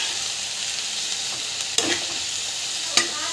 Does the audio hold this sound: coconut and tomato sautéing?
yes